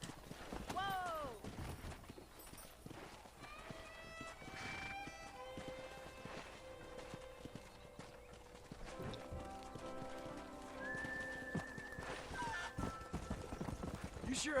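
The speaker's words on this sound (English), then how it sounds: "That ranch hand said there's a pack of wild horses nearby." Horse hooves galloping in the Red Dead Redemption video game, with wild horses nearby: quiet, rapid clip-clop rhythms with a whinny early on, over soft sustained tonal background sounds.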